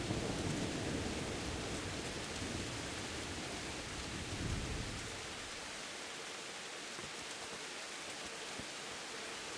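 Heavy rain pours steadily with low rumbling thunder rolling through the first half, then easing into a softer, constant downpour, in the video game Kingdom Come: Deliverance.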